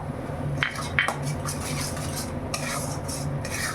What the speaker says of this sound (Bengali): আমি ভালো করে কষে দিচ্ছি মশলাটা